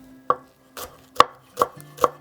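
Five sharp knife chops through fresh green onion, parsley and dill on a cutting board, spaced unevenly and close up, with no voices.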